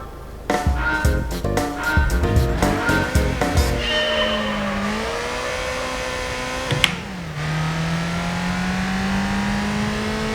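A racing car engine in the Gran Turismo 3 A-spec video game revs hard through quick gear changes, then settles into a steady high drone with a brief sharp click midway, loud and close with no talking.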